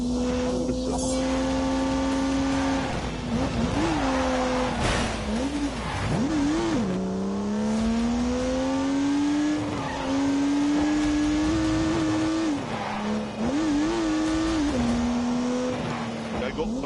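Turbocharged 3-litre straight-six car in The Grand Tour Game, rated at 365 horsepower, revs hard with rising and falling engine pitch as it shifts through gears, loud and continuous throughout.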